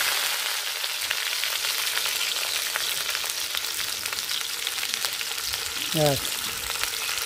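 Potatoes sizzling in hot oil in a pan, a steady crackling hiss that runs close and loud throughout, with a brief voice near the end.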